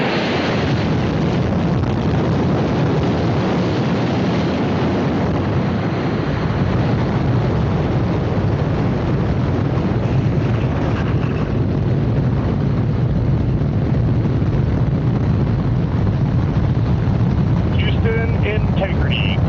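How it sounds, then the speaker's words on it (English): Rocket core stage engines igniting at launch in the video game Space Sailors, a dense, loud, continuous roar that holds steady throughout, with brief radio-style chatter near the end. "GLS is go for core stage engine start."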